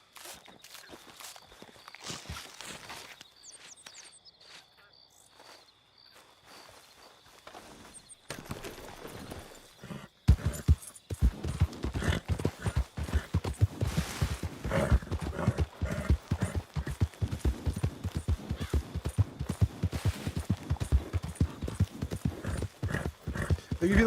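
Video game horses' hooves clip-clop steadily, sparse and quiet at first, then a louder, quicker trot after a sharp change, with a brief whinny near the start.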